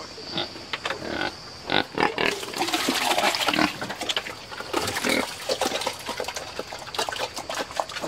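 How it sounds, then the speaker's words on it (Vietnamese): A large, slow-growing pig raised for four years grunts and snorts repeatedly at close range, with irregular bursts of rough noise and some wet, watery sounds in between. "Con lợn to cái ông nuôi được bao nhiêu năm rồi?"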